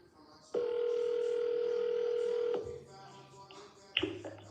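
An outgoing phone call to a for-sale-by-owner listing gives a loud, steady telephone line tone for about two seconds, which cuts off into quieter handset rustling, a lower hum and a sharp click near the end.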